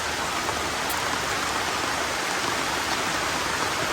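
Steady rain falls through a forest, a dense, even hiss of drops on leaves that never lets up, with no voices over it.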